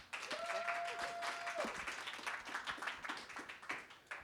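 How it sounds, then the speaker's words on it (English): Audience applause at a music producer showcase event, dense clapping from a crowd lasting throughout, with a brief tonal whistle or feedback note early on. "Let's give him one more round of applause."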